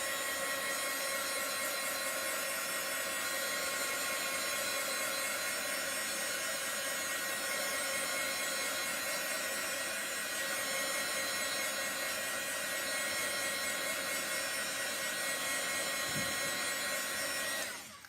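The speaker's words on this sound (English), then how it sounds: "I'm going to grab my heat tool one more time, and we'll give this a little blast." A heat tool blasts hot air onto a chalkboard, giving a continuous, even whooshing blower hum that runs steadily for nearly the whole stretch at moderate, close-range volume before cutting off at the end.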